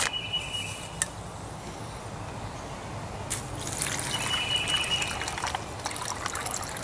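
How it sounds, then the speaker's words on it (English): Water pours steadily into drink powder in an MRE beverage pouch, about 12 ounces, a continuous trickling gush that grows slightly fuller partway through, with no talking. "we're going to pour about 12 ounces of water into our beverage"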